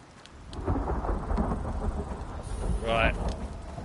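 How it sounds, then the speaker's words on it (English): A flash storm in the survival game Icarus rumbles with rolling thunder over steady heavy rain, a continuous loud wash with a brighter crackling burst near the end. "There's an incoming flash storm."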